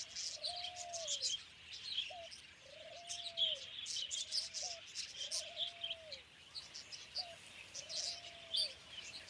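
Parrots or cockatoos call in the wild, a series of repeated arched whistling calls at a steady pace, set against a busy chorus of chirping birds and insects.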